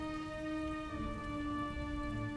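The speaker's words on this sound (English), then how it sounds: "this rain's so annoying" Steady rain pours in the video game Sniper Elite: Resistance, a continuous soft hiss of falling drops under a constant tonal hum, with no voices.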